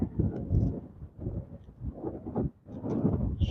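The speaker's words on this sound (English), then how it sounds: "I can't tell if you guys can tell how bad it's blowing or not" Strong storm wind blows hard outdoors near trees. Gusts buffet the microphone in a heavy, low, roaring rush that rises and falls over a few seconds, and no one speaks.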